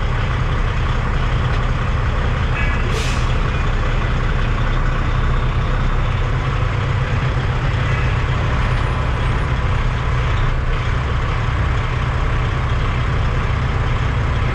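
A Kenworth T800 dump truck idles with a loud, steady low diesel rumble that holds throughout, broken only by a brief hiss and click near the start as it is put into gear.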